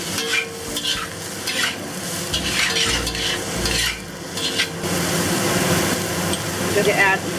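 Mushrooms and tofu stir-fried in a pan with oyster sauce, tossed so the pieces scrape and sizzle steadily, the rattle of the pan coming in short bursts, with occasional talk over the cooking.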